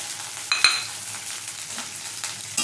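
Okra being fried with onions in a pan for a lentil dish, a steady soft sizzle with a few sharp clinks and scrapes of a stirring utensil, close by and with no talk.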